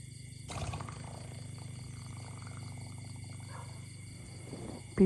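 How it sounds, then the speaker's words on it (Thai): An elephant lying down releases a long, low rumbling fart, a steady deep drone lasting several seconds with a faint background hum. "น้องช้างเขาจะนอนตดอย่างนี้ เรื่อยๆนะคะ"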